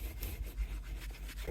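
A Swiss Army knife is rubbed on a leather strop with polishing compound, giving a faint, soft, repeated scraping and brushing close by with no talk.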